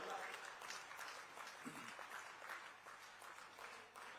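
Audience clapping at a political rally gathering fills the air, a dense, steady patter of many hands kept up throughout, fairly faint and distant.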